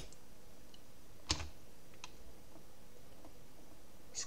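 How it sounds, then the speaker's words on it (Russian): A single computer keyboard key press, F4, in the PCSX2 emulator: one sharp click near the middle, then a few faint ticks over a quiet background. "Я кликну на F4"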